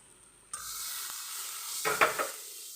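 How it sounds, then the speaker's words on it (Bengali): Spices sizzle in a pan, and a utensil stirs through them as chhana is about to go in for paratha filling. A steady hiss is broken by a short burst of scraping near the end, close and moderately loud, with no talk. "ছানাটা দিয়ে এবার খুব ভালো করে নাড়তে হবে।"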